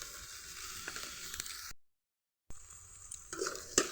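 Crushed ginger and garlic go into a pan of sautéed onions for a chicken and pea curry, frying with a steady close sizzle and light stirring, broken by a brief silent gap midway.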